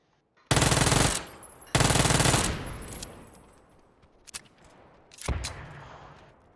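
In the PUBG video game, the player's own gun fires two loud, rapid automatic bursts back to back, then two separate single shots follow after short pauses. The shots are close and dry, with no one talking.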